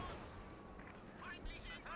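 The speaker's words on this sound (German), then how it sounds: "Major Arty jetzt noch auf das HQ" A dense artillery barrage in the Company of Heroes 2 video game, a rumbling wash of distant, overlapping shell blasts heard behind someone commentating in German.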